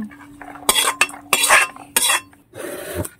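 Cooked chana dal is poured and scraped from a cooking pot with a metal utensil, giving several short clanking scrapes in quick bursts and then a softer slushy pour at the end.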